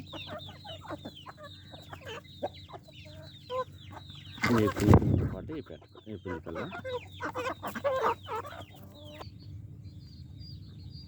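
Hens and small chicks in a backyard poultry coop cluck and peep in frequent short calls throughout, with a louder burst of fluttering or scuffling midway; someone speaks briefly near the start.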